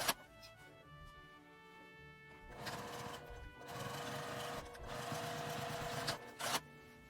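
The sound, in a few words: sewing machine edge-stitching a fabric mask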